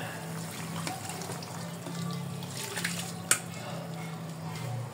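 Tamarind liquid, hand-squeezed from sampalok pulp, pours steadily into a cooking pot for Filipino chicken sinampalukan, a continuous soft watery splashing with a brief clink partway through.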